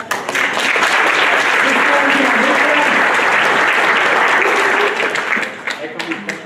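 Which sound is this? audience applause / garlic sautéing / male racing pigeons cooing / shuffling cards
audience applause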